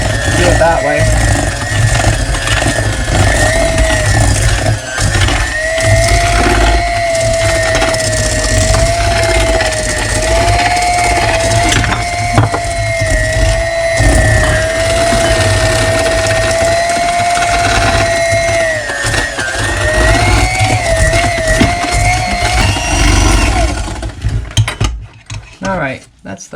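A small electric kitchen mixer whirs continuously at close range with a steady motor hum and a rattling mechanical texture, then cuts off near the end.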